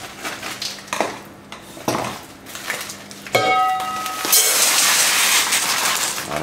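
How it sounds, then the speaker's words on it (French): Pink peppercorns being crushed with salt in a kitchen, close gritty grinding and scraping strokes, with sharp clinks of a utensil against a dish, growing into a louder continuous crunch toward the end. "Je vais écraser mes baies."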